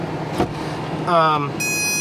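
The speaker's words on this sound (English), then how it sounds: "Second set of beeps." Short electronic beeps from a 7-inch drone sound close up, a brief tonal burst followed by a steady high beep, with background hum.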